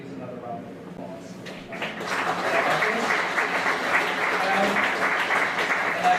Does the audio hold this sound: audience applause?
yes